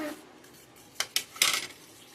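Bread egg toast mixture with onion stirred in a pan, giving a few short scraping clinks of a utensil against the pan, three brief close knocks in quick succession.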